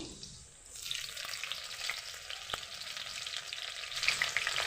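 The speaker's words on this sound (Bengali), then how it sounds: "তেলটা দিলাম একটু গরম হতে মধ্যে দিয়ে দেবো রসুন কুচি আদা কুচি লঙ্কা কুচি" Chopped garlic, ginger and chilli hit hot oil in a pan, and after a brief quieter start a bright, crackling sizzle rises and holds steadily, with a few sharp ticks from stirring; no speech.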